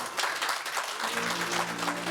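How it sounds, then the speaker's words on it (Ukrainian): Wedding guests applaud at the first table as the parents are introduced, a dense, even patter of many hands that holds throughout, with a low tonal hum entering partway. "Друзі, під ваші оплески."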